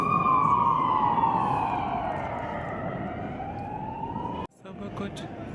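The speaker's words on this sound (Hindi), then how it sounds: "और आ गई पुलिस की गाड़ी, शायद डॉन को ढूंढ रही है।" A police car siren passes along a street in Brussels, its loud wailing tone sliding downward in pitch as it goes by before cutting off abruptly, with low street noise underneath.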